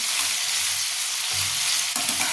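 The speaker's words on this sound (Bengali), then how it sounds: "এবার টমেটো আর কাঁচা লঙ্কাটা দিয়ে আমি আরও 1 মিনিটের জন্য এটাকে একটু হাই ফ্লেমে ফ্রাই করে নেব।" Chopped tomato and green chilli fry on high flame with masala for a prawn dish, a loud continuous sizzle with faint stirring scrapes, no voices.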